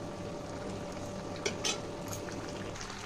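A spoon lightly stirs broccoli paneer curry in a pan, giving a faint, soft scrape and a couple of small clinks over a low simmering hiss.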